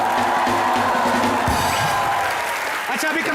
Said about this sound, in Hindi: ओरिजिनल साजिद खान के लिए जोरदार तालियां।